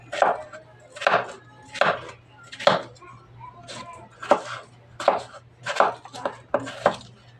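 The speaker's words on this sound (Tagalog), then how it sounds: "Guys, ito yung mga patas sayote. So, i-slice na natin." A knife slices through chayote on a cutting board in about ten evenly spaced, crisp chops with sharp board knocks, close and clear with no talk over it.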